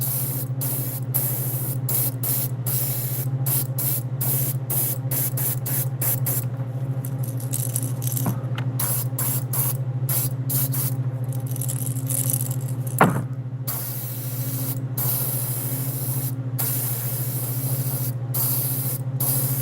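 Steady, loud hiss of an airbrush spraying paint onto fishing lures, running continuously with a low compressor hum beneath and brief clicks as the trigger is worked.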